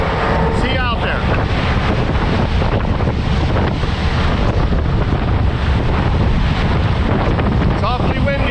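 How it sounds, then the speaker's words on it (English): Strong, steady wind buffets the microphone at the Kelleys Island ferry dock, a loud continuous roar with water and waves beneath, and a voice speaks briefly in the middle of it. "It's awfully windy out here."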